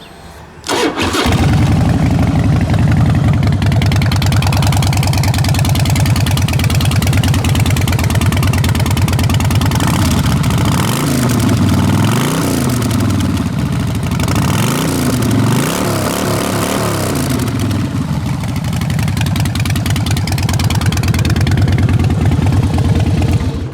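A 2005 Harley-Davidson Springer Softail motorcycle cranks and fires up, then settles into a loud, steady V-twin idle with a few throttle blips partway through, running alone without talk.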